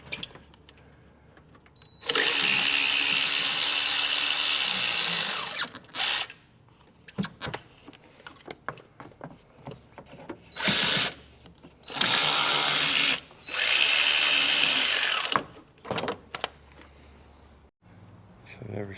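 A power drill or impact driver runs loud in several bursts, a long whine then shorter ones, as two 10mm bolts come off an engine bracket during removal of a 2012–2015 Honda Civic 1.8-litre engine, with a ratcheting sound and quiet pauses between.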